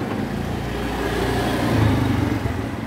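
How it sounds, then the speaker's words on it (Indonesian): A car passes along a street, its engine growing louder as it nears and then easing off, heard at moderate distance over steady outdoor background noise with no talking. "Ada mobil."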